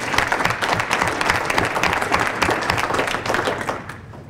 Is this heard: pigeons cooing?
no